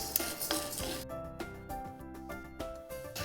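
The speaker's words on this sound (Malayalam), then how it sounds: "ഉഴുന്നും കൂടെ നമുക്ക് കടലപ്പരിപ്പ് വറുത്തതുപോലെ നന്നായിട്ട് വറുത്തെടുക്കാം" Urad dal roasting in a pan for chammanthi powder, with a utensil scraping and stirring in repeated strokes, soft clinks against the metal, quiet and close with no talk.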